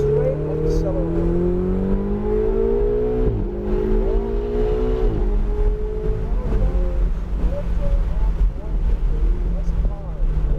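Ferrari 488 GTB engine pulling hard under acceleration on a driving course, a loud, steady rising drone with wind buffeting, while an instructor talks over it throughout.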